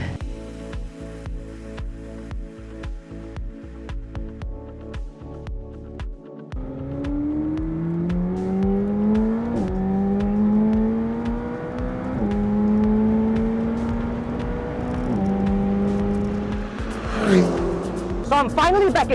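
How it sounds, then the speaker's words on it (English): A McLaren GT with a 4-litre V8 accelerates hard around Sepang circuit, its engine note climbing through repeated gear shifts and staying loud and close, with a voice talking over it. "this is the first car I'm driving. It's the McLaren GT"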